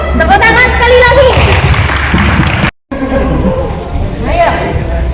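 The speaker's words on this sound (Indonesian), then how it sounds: "Tepuk tangan sekali lagi" Applause from a group at a financial management training session, a dense burst of clapping with loud cheering and shouting voices over it, a brief cut, then more clapping and voices.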